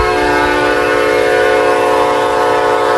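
A Metra-style commuter train departs in the Roblox RO-Scale Sandbox game, its loud, steady multi-tone horn blaring continuously over the rumble of the cars throughout.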